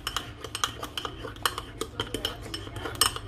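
A fork stirs chocolate mug cake batter inside a mug, giving quick repeated clinks and scrapes against the ceramic in a steady close rhythm.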